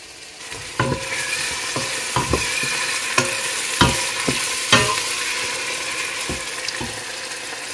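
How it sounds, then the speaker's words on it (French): Onions frying in oil in a pan sizzle steadily while a utensil stirs them with repeated scraping clatters at irregular intervals, close and fairly loud, no talking. "Je mets juste que les oignons et je les fais revenir dans l'huile."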